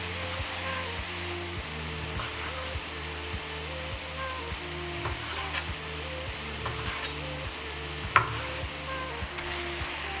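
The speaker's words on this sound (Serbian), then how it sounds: "Dok se luk dinsta" Onion stewing in a pan, giving a steady, close sizzle for the whole stretch, with a few faint clicks and taps as it cooks; no talking.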